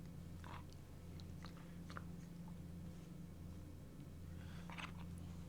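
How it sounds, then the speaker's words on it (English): Lucky Charms cereal marshmallows being chewed up close, soft crunchy bites and munching in several short bursts over a steady low hum, no talking. "I was actively munching on the marshmallows"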